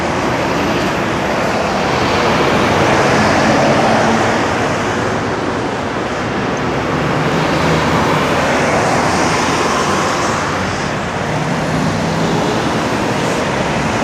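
A Foden lorry passes on a busy road in Newark, its broad engine and tyre roar swelling and fading amid continuous traffic noise, fairly loud and without speech.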